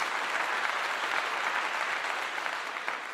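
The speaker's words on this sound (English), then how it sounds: "Let me give you a clap." Steady applause from an audience at a rookie football event, a dense wash of clapping held at an even level throughout with no voices rising above it.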